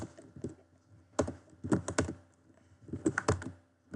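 Clattering keystrokes on a computer keyboard come in bursts of quick, close taps with short pauses between them, and no voice is heard.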